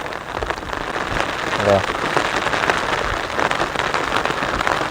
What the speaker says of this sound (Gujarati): અત્યારે થોડોક ડીમ પડી ગયો છે વરસાદ, ધીમો પડી ગયો છે